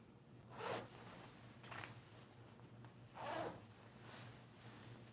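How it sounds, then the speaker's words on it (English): A zipper on a big-sleeved jacket run up in several quick rasping pulls, faint and close, with short pauses between strokes and no speech. "Let me zipper it up."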